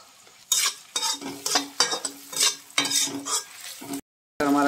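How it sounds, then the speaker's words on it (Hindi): Chopped tomatoes frying in a pan of golden-browned base for an egg yolk curry, heard as a steady close sizzle broken by repeated bursts of stirring and utensil scraping, with a brief silence near the end before the sizzle returns. "अब इसमें डालेंगे कटे हुए टमाटर।"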